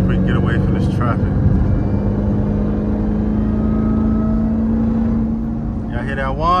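Engine of a Jeep Trackhawk fitted with a JLT cold air intake, a loud, steady low drone heard from inside the vehicle while driving in traffic during a car meet, sustained for several seconds with a brief higher whine near the end.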